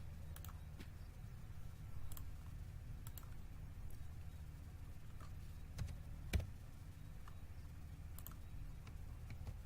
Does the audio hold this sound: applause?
no